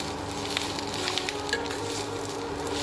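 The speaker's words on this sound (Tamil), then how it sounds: "கீரை நல்லா வதங்கி வந்துட்டு பாருங்கள்." Drumstick leaves sautéing in a pan give a steady, soft sizzle with faint stirring scrapes, quiet and continuous throughout.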